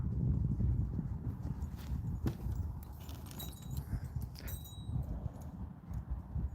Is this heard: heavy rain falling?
no